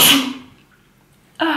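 A single loud, close sneeze bursts out at the start and quickly fades, followed by a short quiet gap before a voice begins speaking.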